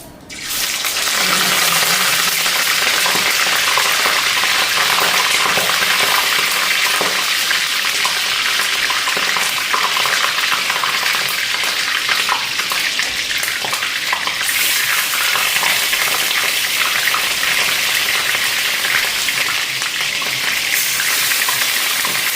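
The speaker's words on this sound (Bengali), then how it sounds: "চিকেন লেগ পিসগুলি চিকেনগুলি ফ্রাই বসাই" Chicken leg pieces fry in hot oil in a pan, making a loud, continuous sizzling roar that flares up sharply at the start and stays dense and steady for over twenty seconds, with no voices.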